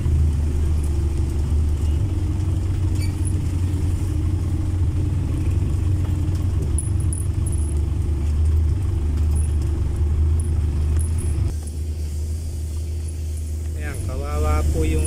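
A jeep drives along a muddy, potholed rural road with a steady, loud engine rumble and road noise, along with some jangling and clatter and someone speaking.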